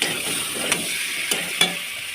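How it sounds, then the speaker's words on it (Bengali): Potatoes and eggs frying in a spice masala, with a continuous close sizzle broken by three sharp spatula clicks as the pan is stirred, and no speech. "আলুগুলো দিয়ে একটু কষিয়ে নেবো ভালো করে।"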